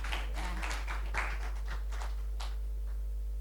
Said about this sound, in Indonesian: tepuk tangan untuk kalian yang hebat